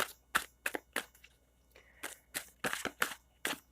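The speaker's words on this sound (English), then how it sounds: "Just a couple more shuffles here." Playing cards are shuffled in a series of quick crisp riffles and snaps, close by and irregular, with brief pauses between bursts.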